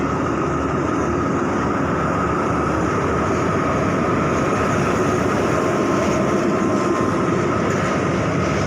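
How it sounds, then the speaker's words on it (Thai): A southern-line locomotive hauling train 130 rumbles steadily past at night at Chum Saeng station in Thailand, a loud, continuous low roar with rail noise and no pauses. "หัวรถจักรจากแดนใต้"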